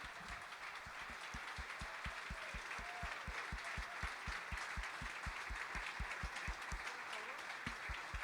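Audience applause after two resignations at a six-board simultaneous chess exhibition with Magnus Carlsen, a faint steady patter of clapping from a modest crowd with a rhythmic thumping underneath, sustained for several seconds.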